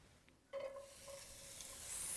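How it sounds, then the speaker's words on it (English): Chopped onions hit a hot skillet and start sizzling, the hiss swelling steadily and filling the quiet kitchen, close and continuous. "start cooking the onions and the peppers and the garlic"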